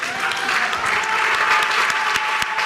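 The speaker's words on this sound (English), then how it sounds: "A round of applause for Hackman" Studio audience at a TV talent show applauding a contestant, a dense, steady wash of clapping that holds at an even level throughout with no pauses.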